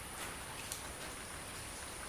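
Steady rain falling on potted hoya and orchid plants outdoors, a dense even hiss of drops with no talk, continuous and close throughout.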